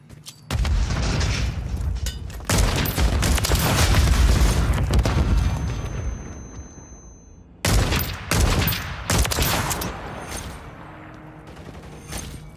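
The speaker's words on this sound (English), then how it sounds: "Grenade! Incoming!" Call of Duty gunfight with booming grenade blasts and bursts of gunfire, loud and dense over several seconds, dropping out briefly before another cluster of sharp blasts and shots.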